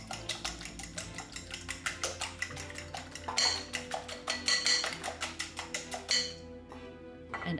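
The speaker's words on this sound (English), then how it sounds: "Let's beat it with a fork a little to mix." A fork beats eggs and mustard in a bowl, clinking in a quick, steady rhythm of close, bright taps against the sides, with a low kitchen hum underneath.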